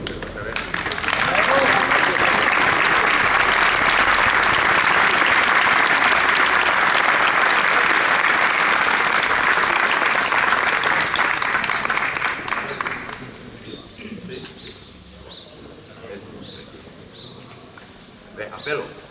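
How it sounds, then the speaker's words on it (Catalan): Audience applause for the Coral Bell-Camp choir after a caramelles singing in Alguaire, a loud sustained burst of many hands clapping for about twelve seconds, then fading to quiet murmurs. "Crec que mereix que els aplaudiu."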